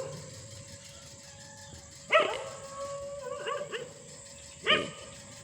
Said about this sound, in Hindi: ये देखिए बाहर तो बड़े बड़े कुत्ते हैं